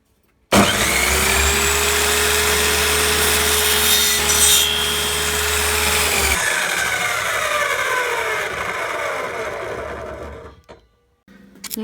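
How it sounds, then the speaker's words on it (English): A miter saw whines up and bites through wood being cut for a snooker cue stand, a loud close buzzing cut lasting several seconds before the motor winds down and falls silent. "then we're just going to slice through there with the miter."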